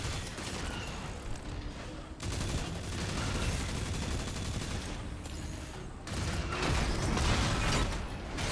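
Video game gunfire from a shotgun-equipped character: dense, loud, continuous barrages of shots and mechanical clatter, broken by two brief lulls.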